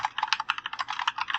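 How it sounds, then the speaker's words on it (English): Rapid typing on a computer keyboard, a quick run of close, crisp key clicks over about a second and a half, with no voices. "So here I'll just type in"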